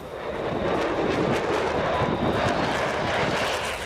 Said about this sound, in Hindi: इन जहाजों के अलावा ग्रीस के लड़ाकू विमान भी समंदर के ऊपर उड़ते नजर आए।